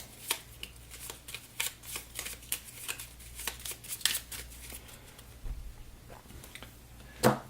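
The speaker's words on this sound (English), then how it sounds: "Give these a shuffle." Board game cards from The Big Book of Madness being shuffled: a long run of quick, crisp riffling bursts at a steady pace, close but soft, ending in a sharper snap, with no voices.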